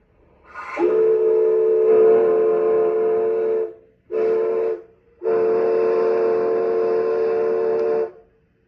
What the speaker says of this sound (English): That was the first time 4960's whistle was blown since its rebuild.